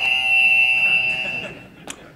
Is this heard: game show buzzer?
yes